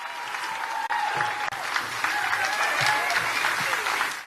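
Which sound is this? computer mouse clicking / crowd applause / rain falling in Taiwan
crowd applause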